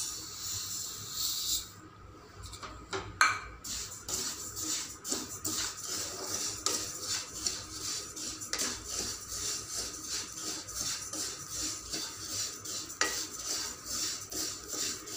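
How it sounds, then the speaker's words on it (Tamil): Black sesame seeds being stirred and roasted in a pan for sesame balls, with a steady hiss and repeated scraping and clinking of the spoon against the pan, close and continuous. "இப்போ எள் வறுத்துக்கலாங்க."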